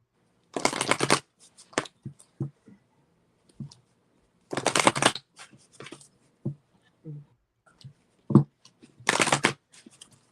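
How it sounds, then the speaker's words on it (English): Playing cards are riffle-shuffled three times in quick rattling bursts, separated by soft taps and handling noises in an otherwise quiet room. "Sorry, I have to shuffle again"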